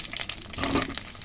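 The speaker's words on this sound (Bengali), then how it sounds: "এবার আমি আলুগুলোকে ভালো ভেজে নেব।" Potatoes fry in hot oil for homemade chicken biryani, a brief close sizzle with a slight swell midway.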